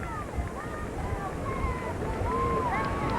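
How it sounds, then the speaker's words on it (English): Strong, gusty wind buffets an outdoor microphone at a softball game, a steady low roar of broadband rumble throughout, with a voice talking over it. "Without this very strong wind, I'll give you an idea on the trees here, really gusting at the moment."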